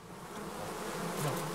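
A steady, dense buzzing of bees or similar insects drones continuously, swelling slightly toward the end.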